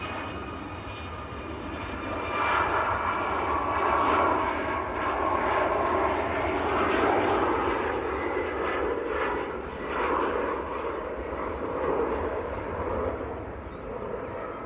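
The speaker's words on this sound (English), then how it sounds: "Ryanair to Dubrovnik." A Ryanair airliner bound for Dubrovnik passes at Manchester Airport, its engines making a steady broad roar that swells and lingers at moderate distance for about fifteen seconds, with no talking.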